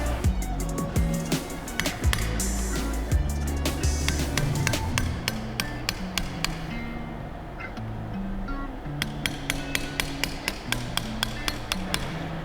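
Light hammer taps on a coilover collar, a series of sharp metallic knocks at irregular spacing, close and clear over faint background noise.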